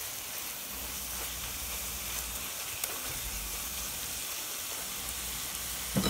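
Grated carrot sautés in ghee for carrot halwa, giving a steady, close sizzling hiss that holds evenly throughout with no pauses and no voices.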